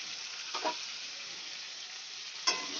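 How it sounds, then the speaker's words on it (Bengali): Salted, turmeric-coated potatoes fry in a pan of oil, a soft, even hiss throughout with two brief scraping stirs, quiet and close. "আমি এবার এই তেলের মধ্যেই আলুটাকেও লাল লাল করে ভেজে নেব"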